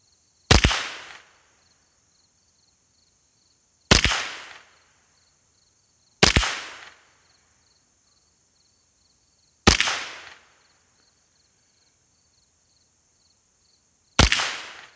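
Five sharp rifle shots fired through a rifle with a Ryflens 4x12x50 combo scope, spaced a few seconds apart, each loud and close with a short decaying echo, over a steady high-pitched hum.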